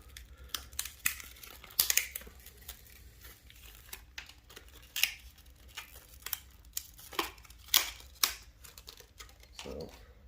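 Plastic packaging crinkles and tears as two laptop RAM memory cards, one an 8 GB module, are pulled free during a Dell Inspiron upgrade, sharp irregular rustles and snaps close by over a low steady hum.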